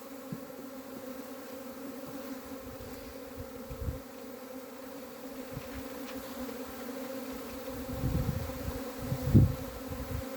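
Honey bees buzzing around an open hive during a queen check, a steady low drone of many insects close by, swelling louder in bursts near the end, with no talking.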